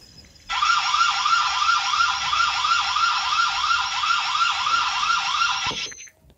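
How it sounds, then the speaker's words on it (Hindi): A security camera's electronic alarm siren, triggered by motion, starts abruptly and wails in a rapid, repeating warble at close range for about five seconds, then stops. "मैं इसके बहुत करीब खड़ा था, इस वजह से ये अलार्म बजना शुरू हो गया"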